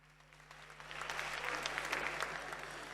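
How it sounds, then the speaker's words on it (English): Crowd applause at a political campaign launch in Ghana, clapping that swells after the first second into a dense, even patter and keeps going through the end, with a low steady hum underneath. "A round of applause for yourselves"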